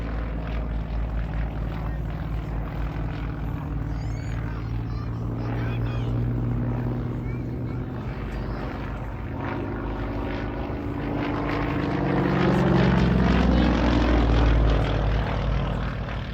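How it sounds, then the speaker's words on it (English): A Yak-52 propeller aircraft with a deep, throaty radial engine drones steadily nearby, swelling louder toward the end as it passes. "It's a lovely sound, isn't it, the Radial engine?"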